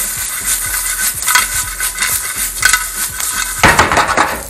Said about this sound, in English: we're gonna put back the Caraille, and then yeah, mix it all together